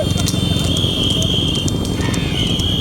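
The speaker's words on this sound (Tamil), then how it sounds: "நடைபெற்று கொண்டிருக்கிற புது குதிரை வண்டி பந்தயத்திலே பதிமூணு குதிரைகள்" Hooves clatter in a steady rapid rhythm during a horse cart race of thirteen horses in Pudukkottai, heard amid crowd noise, a high whistle and a loud announcer calling the race over them.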